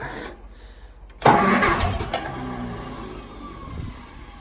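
A Farmall M diesel tractor fires up on gas after years of sitting, with a brief crank followed by a sudden loud catch and a rough, settling idle nearby.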